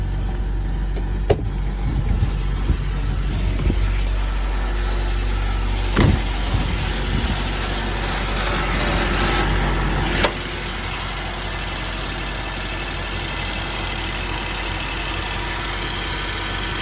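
A 1993 Land Rover Defender 110 engine idles close by with a steady low rumble, a few faint clicks and knocks early on, then continues at a slightly lower, even level.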